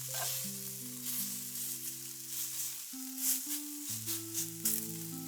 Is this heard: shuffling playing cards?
no